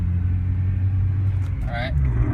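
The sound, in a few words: Honda Civic Si engine revving high when cold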